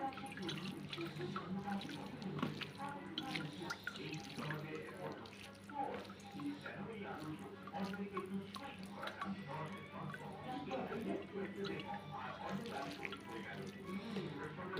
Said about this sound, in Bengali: এখানে ঠান্ডা পানি দিয়ে ধুয়ে নিলাম তো